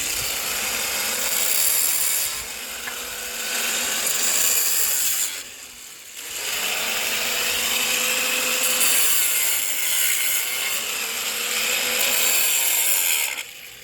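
Staples being cut off reclaimed maple flooring with a hand tool, two long bursts of scraping and snipping separated by a short pause, close and fairly loud.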